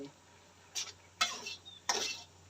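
A utensil scrapes and clinks against a pot as mushrooms and vegetables are stirred into a Thai bamboo shoot curry, in three short strokes over quiet background hum.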